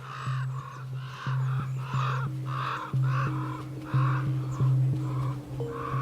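Wild ravens calling in winter around a dead deer, a steady series of harsh, hoarse caws repeating about once a second, close and loud, over a constant low hum.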